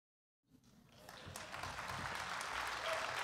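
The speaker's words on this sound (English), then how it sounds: "Please clap." Applause from a conference audience at a Code4Lib 2018 session breaks out after a moment of silence, swelling quickly into steady, full clapping that keeps building to the end.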